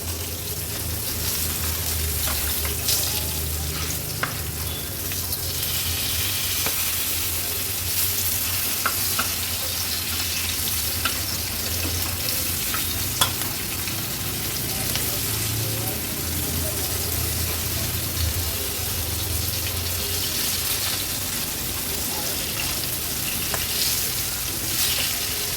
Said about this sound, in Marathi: आता गॅसची फ्लेम मीडियमवर ठेवते आणि या तुकड्या तळून घेणार आहोत।